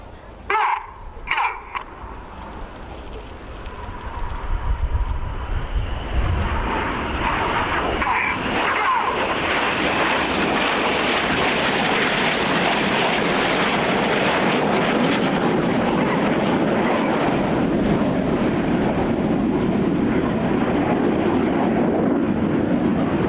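Red Arrows jet aircraft flying a rollback formation manoeuvre at a RIAT 2013 air display, a roar that swells from a distance into a loud, sustained jet rush passing overhead, with crowd sounds early on.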